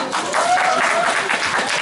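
Applause from an audience at a Korean mayoral candidate's press conference in Gumi, a steady wash of many hands clapping at moderate loudness throughout, with faint voices underneath.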